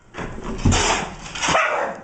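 A dog barks and yelps at a cat in a short, loud burst of two or three sharp, whining barks close by, with no talking.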